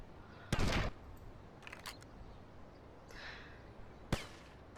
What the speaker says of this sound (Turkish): Başka silah sesi hala devam ettiğine göre adamlar bir yerlerde var.